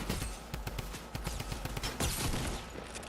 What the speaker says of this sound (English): Figured a good sniper shot would do it.